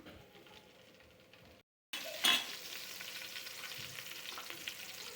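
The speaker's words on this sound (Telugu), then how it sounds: "కట్ చేసిన అల్లం ముక్కలు, టూ మినిట్స్ వేయించుకోవాలి" Chopped ginger, green chili and cumin seeds frying in hot oil for corn fry, a steady quiet sizzle broken by a short silent gap, then a sharper crackle as more goes into the pan before the frying settles back in.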